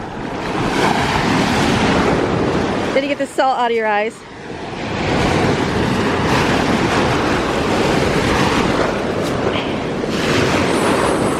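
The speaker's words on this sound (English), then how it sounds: "the waves are just so crazy" Rough ocean surf pounding a beach during shark tooth hunting, a loud continuous wash with heavy wind buffeting the microphone, briefly broken by a person talking close by.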